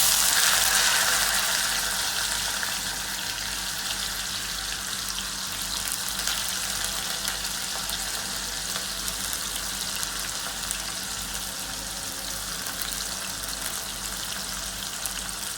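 Soaked dal tipped into hot oil with cumin in a home kitchen, giving a loud, bright, steady sizzle that starts strongest and settles into a constant frying hiss.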